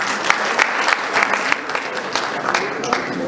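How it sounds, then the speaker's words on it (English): A room of people at a sports awards gala claps in a steady round of applause, dense and even, fairly close, with faint crowd murmur. "again a round of applause for them."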